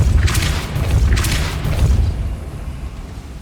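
Depulso spell cast in the Hogwarts Legacy video game, a loud booming blast with a whooshing burst, followed by a second similar boom that fades into a low rumble.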